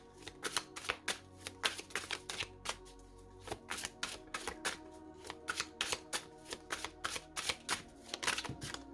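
Tarot cards being shuffled by hand, a quick series of crisp riffling snaps in an uneven rhythm, close and quiet, with no one speaking.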